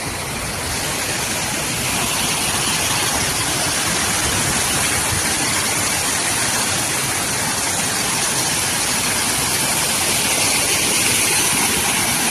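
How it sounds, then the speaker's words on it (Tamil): Overflowing lake water pours out over a spillway beside a main road, a loud, constant roaring rush that holds steady for the whole stretch without pause. "ஏரியிலேருந்து தண்ணி போயிட்டு இருக்குது."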